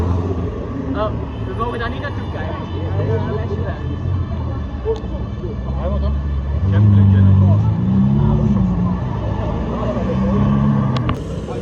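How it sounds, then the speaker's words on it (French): A hypercar drives past on a Monaco street, its engine roar rising loud and close midway then fading, heard amid a steady crowd and traffic background with people talking throughout. "C'est tellement agressif comme voiture."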